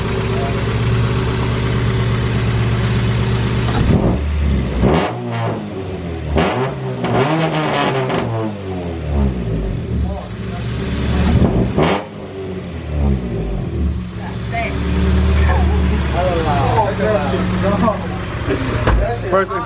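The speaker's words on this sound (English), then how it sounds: "first rev with the 1320 header" Acura Integra fitted with a 1320 Toda header and test pipe, revved hard in loud, sharp bursts with a rising and falling pitch over a rough idle, close to the microphone, with voices talking between and over the revs.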